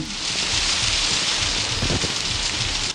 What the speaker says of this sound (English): Why, rain indoors?